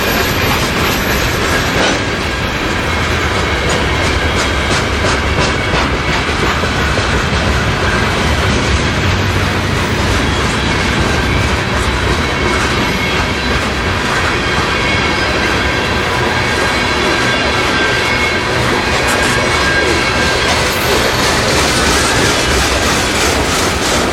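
A freight train rolls past on railroad tracks as a steady, loud stream of wheel clatter and rumble with faint squeals, continuous for over twenty seconds and without voices.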